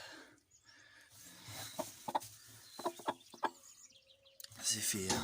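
A hen, badly injured by a rooster and kept apart in a pen to recover, clucks in a series of short, uneven calls, close and moderately loud, with faint voices and rustling around her.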